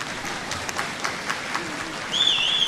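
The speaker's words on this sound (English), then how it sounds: "this is where people usually clap because I'm almost done" A graduation audience breaks into scattered clapping that thickens toward the end, where a short whistle rises above the applause.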